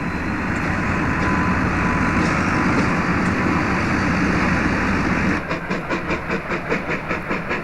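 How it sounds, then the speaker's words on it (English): SAR 621 special train pulls out of Ararat, a loud steady rumble of engine and rolling stock giving way to a rhythmic clickety-clack of wheels over rail joints. "our special train is leaving Ararat"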